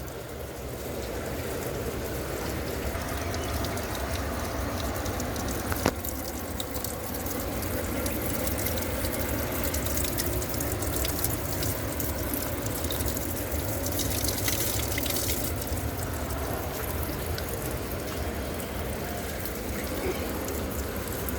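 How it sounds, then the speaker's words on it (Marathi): Water pours from a pipe into a stone cow-mouth spout at a temple, giving a steady broadband rushing splash that continues throughout at close range. "हे बघा तिथून पाईपद्वारे पाणी ना बघा इथं गोमुखात येते बघा इथं."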